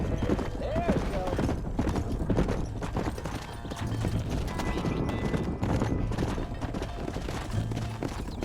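Horse hooves clip-clop steadily in a Red Dead Redemption ranch scene, a dense rapid rhythm of hoofbeats throughout with a brief whinny near the start and speech mixed in.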